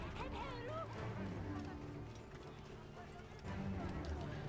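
A horse gallops in the video game Assassin's Creed Origins, its rapid hoofbeats running steadily under game music and ambience at moderate volume.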